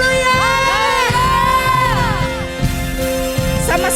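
A church congregation at a worship service cheers, whoops and shouts hallelujah together, a loud, sustained crowd roar with rising yells layered over steady background music.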